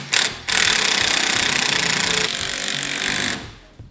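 An impact wrench rattles loudly in a fast hammering burst while tightening a bolt on a Polaris RZR front end, after a brief first blip, then winds down and stops.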